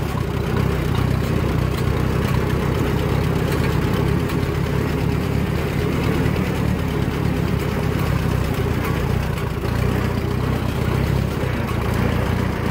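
A steady, heavy tractor engine runs continuously at close range, a low rumbling drone that stays even throughout with no voices.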